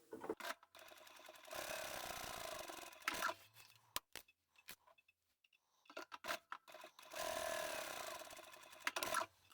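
A sewing machine stitches a quarter-inch seam along both sides of stabilized fabric for a pocket tissue holder, running in two long steady bursts with a pause and small handling clicks between, close and clear with no talking.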